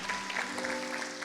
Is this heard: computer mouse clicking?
no